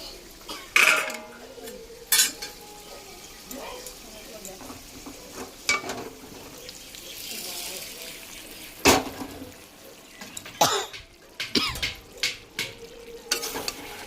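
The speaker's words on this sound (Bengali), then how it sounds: "দিয়ে আমি এরকম করে এইবার এর সাথেই কষে দেবো পেঁপেটা" Fried papaya is stirred into spices in a pan for chicken curry. Intermittent metal spatula scrapes and clanks cut through a soft background sizzle, close and irregular.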